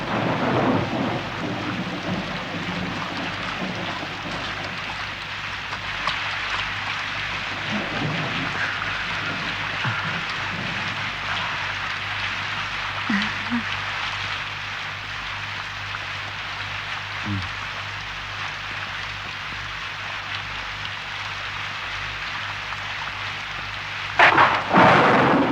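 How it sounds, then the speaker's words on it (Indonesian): Heavy rain pours in a steady, dense roar for a long stretch, with rolling thunder rumbling underneath and a sharp burst near the end, and no speech. "Kau kira kalau kena hujan lebat begini nggak dingin?"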